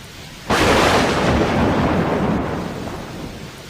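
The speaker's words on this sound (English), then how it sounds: "Try and figure out how far away the storm is." Loud, close thunderclap from a nearby thunderstorm, breaking suddenly after a moment of quiet into a broad rumble that lingers and slowly fades over several seconds.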